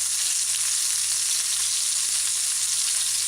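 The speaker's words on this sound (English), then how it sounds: "So you want to allow the patty to fry on one side properly before you flip it." A fish patty frying in smoking-hot coconut oil on a stove at medium-high heat, giving a steady, dense, loud sizzle with no talking.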